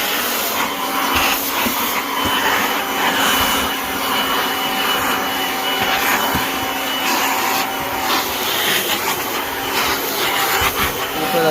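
Kirby Avalir 2 vacuum cleaner running at full power with strong airflow, a loud, unbroken motor whine and rushing air hiss close by, holding a steady tone with faint tonal shifts.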